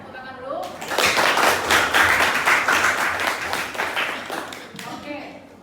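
Students in a physics class on elasticity break into rhythmic group clapping that swells after a moment and holds for about four seconds before fading, with voices heard around it.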